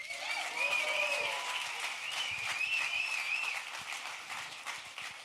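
A crowd at an event announcing a women's pro soccer team for Denver applauds Denver Mayor Mike Johnston, steady full clapping with whoops and cheers scattered over it, fading slightly toward the end.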